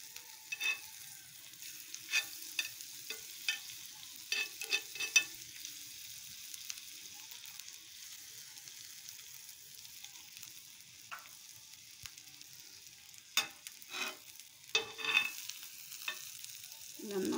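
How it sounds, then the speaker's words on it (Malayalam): Egg masala frying in a pan with butter, a faint low sizzle under repeated scraping strokes of a spatula stirring back and forth in irregular bursts, with quieter pauses between. "ഒന്ന് ഇടയ്ക്ക് അങ്ങോട്ടും ഇങ്ങോട്ടും ഇളക്കുക"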